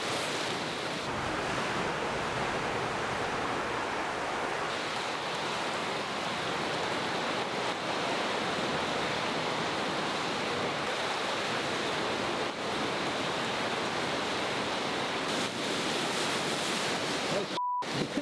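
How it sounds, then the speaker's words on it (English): Ocean waves washing onto a shore, a steady loud roar of surf with wind noise across the microphone, continuous throughout with no pauses. "That's why the waves were stopping and pulsing."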